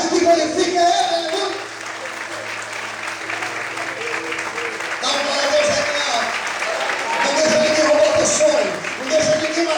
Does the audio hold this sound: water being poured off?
no